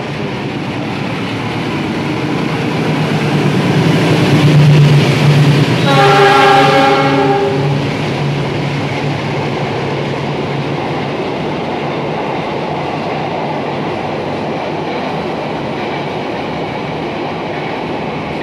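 A passing Indonesian passenger train rumbles loudly with steady rolling noise, and its horn sounds once midway before the roar continues evenly.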